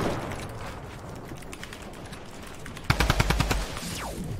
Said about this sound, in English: I just got headshot from the freaking middle of nowhere.